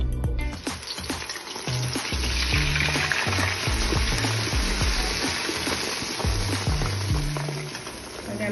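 Hot coconut oil poured onto whipped aloe vera gel, crackling into a loud, busy sizzle that bubbles and spatters steadily, then eases slightly toward the end.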